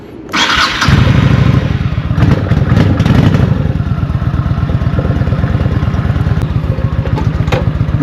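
A vintage Honda motorcycle starts after light choke and settles into a steady, loud, close idle with a quick even putter throughout.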